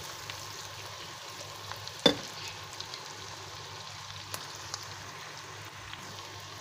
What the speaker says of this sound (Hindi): 1 मिनट तक सौते करेंगे।